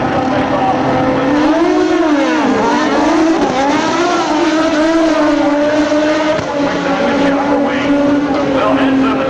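Drag racing motorcycles, including a well-prepared Fire and Ice bike, scream loudly at high revs, the engine pitch wavering and climbing in a sustained roar that fills the whole stretch.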